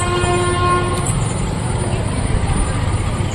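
A train at Chandigarh railway station gives a sustained horn-like tone over a steady rumbling platform din, with voices murmuring in the background.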